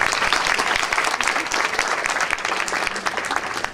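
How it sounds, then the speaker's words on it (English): Sustained audience applause following a ballet recital, dense and steady clapping from a full room that holds at an even loudness throughout, with no voices rising above it. "I think that's amazing and deserves another round of applause"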